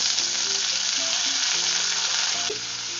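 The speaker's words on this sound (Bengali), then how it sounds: "এবারে আমি আলুটাকে একটু ভেজে নেব" Potatoes sizzle steadily in hot oil with a dried chilli and whole cumin, a continuous close frying hiss with small crackles and faint utensil taps, no voices.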